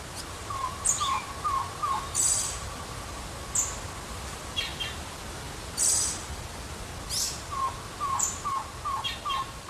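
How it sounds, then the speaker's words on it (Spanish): Tocororo, the Cuban trogon, calling from forest branches in Cuba: repeated short clear notes in bursts of three to five, mid-distance, over a steady background hiss with a few sharper higher chirps from other birds. "podrá descubrir entre las ramas el tocororo, el pájaro nacional de Cuba"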